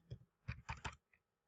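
Fingers type on a computer keyboard in a short burst, giving a handful of quiet, crisp key clicks in an uneven rhythm with a brief pause before a final tap, close by and without speech.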